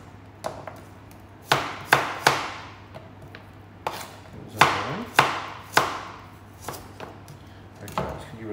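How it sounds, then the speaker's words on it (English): Kitchen knife chopping carrots on a cutting board with a rocking motion, about a dozen crisp, close knocks in uneven bursts with short pauses between, over a steady low hum. "with the knife, I'm doing a rocking motion"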